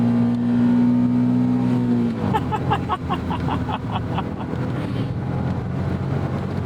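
Turbo blow-off valve on a 2019 Honda S660 Modulo X, heard as a series of short, rapid chirps and whooshes over a loud engine drone while the car accelerates. Wind noise buffets the microphone throughout.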